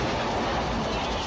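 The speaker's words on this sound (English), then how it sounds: "There's a train." A train in a Jackbox party video game rumbles along in a steady, dense wash of rolling wheel and rail noise, loud and constant through the short moment with no talk over it.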